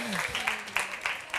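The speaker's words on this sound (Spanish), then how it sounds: "Pues sí, aplauso. Un aplauso." Brief applause from an audience at a science talk on stars and cosmic chemistry, a few scattered claps rising under a speaking voice.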